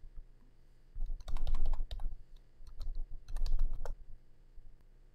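Keys clatter on a computer keyboard in two close, loud bursts of rapid typing with short pauses, including presses of the up arrow key, no voices.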